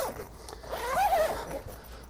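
A secondary zipper on the rear cargo storage area of a 2022 Pleasure-Way Ascent TS campervan is pulled in one steady, close run of about a second, with no talk over it.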